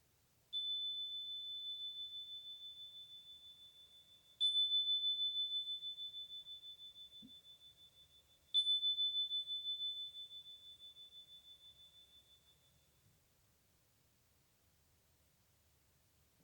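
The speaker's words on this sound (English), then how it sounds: "as we follow the sound of the chime." A meditation chime is struck three times, about four seconds apart, each clear, high, pure ring sustaining and slowly fading in an otherwise silent room.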